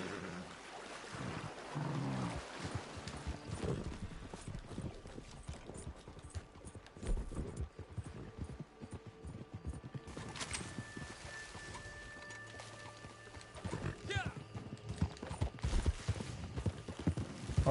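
Horse in the Red Dead Online video game clip-clops along in steady hoofbeats with occasional louder snorts or whinny-like calls, amid ambient outdoor game sounds and no talk.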